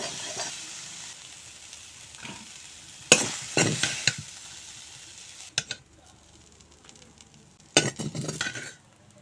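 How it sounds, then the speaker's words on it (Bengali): Soybean chunks fry in oil with intermittent loud sizzling bursts and stirring scrapes, quieter gaps of low crackle between them. "আর সামান্য লবণ দিয়ে সয়াবিন ভেজে নেব"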